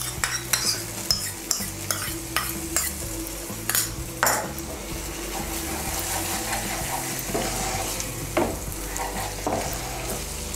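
Masala with whisked yogurt and poppy seed paste stirred in a frying pan, a spatula scraping and clinking against the pan in steady strokes over a continuous close sizzle.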